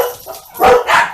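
Dogs at a home bark in a short burst of two or three sharp yaps, fairly close and loud, with no talking over them.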